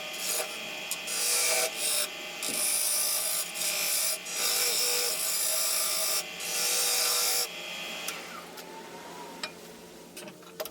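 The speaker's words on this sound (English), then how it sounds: "Watch how quickly Robert adds a tenon to the bottom of this bowl." Wood lathe cutting a tenon on the bottom of a pecan bowl, a steady loud rasping, scraping drone with brief pauses, then quieter after about eight seconds.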